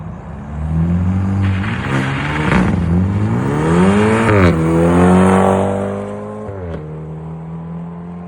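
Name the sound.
BMW 328i M-Sport engine revving with muffler delete exhaust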